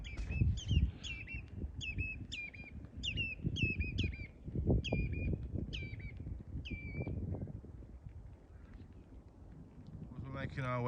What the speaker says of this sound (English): You can hear them turnstones going off the road.